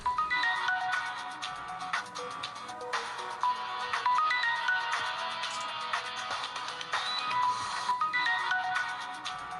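A phone ringtone plays a bright, repeating electronic melody, loud and continuous throughout.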